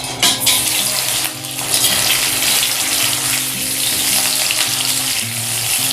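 Pierced whole potatoes frying in hot oil for aloo gobi, a loud, close, continuous bubbling sizzle after an opening splash as they go in, with no talk.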